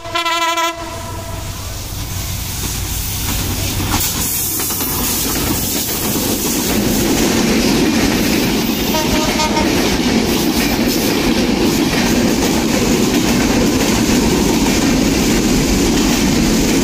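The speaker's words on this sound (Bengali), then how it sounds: "বেশ বিলম্ব নিয়ে ট্রেনটি এখন ঈশ্বরদীর দিকে রওনা হলো।" The Khulna-bound Kapotaksha Express pulls out of Bheramara station toward Ishwardi. A brief horn blast opens, then a loud, rising rumble of wagons and rhythmic wheel clatter builds and holds.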